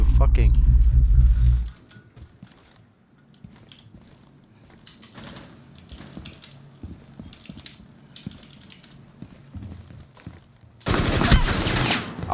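Automatic gunfire in the video game Rainbow Six Siege, a loud burst at the start and another at the end, with quieter scattered shots and game noise between, mostly without talk.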